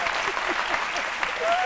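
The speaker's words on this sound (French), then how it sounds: "On devrait les applaudir." An audience at RTI 1's midday television program C'midi claps steadily and densely for a short burst, close and fairly loud, with a voice speaking over the applause.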